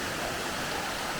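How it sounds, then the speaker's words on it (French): A well-known waterfall pours continuously, a broad, even rushing roar heard up close with no voices or breaks. "c'est une cascade bien connue"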